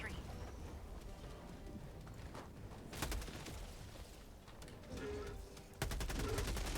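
Gunfire in Helldivers 2 crackles in bursts of automatic fire, with sharper volleys standing out over a steady mix of in-game noise, while a player's voice talks underneath.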